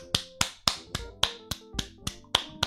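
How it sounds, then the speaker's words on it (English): A single person claps hands alone, about ten crisp, separate claps in a quick, even rhythm, close and fairly quiet. "you can hear me clapping"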